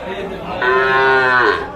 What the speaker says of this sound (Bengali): ও পাশে চলেন তো একটু আমরা দেখে নিই গরুগুলো